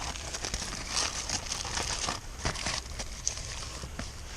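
Aluminum foil crinkles and crunches as it is crimped over a pan for baking cheese-stuffed bannock bread at a backpacking camp, with repeated close, quiet rustling bursts and no talk.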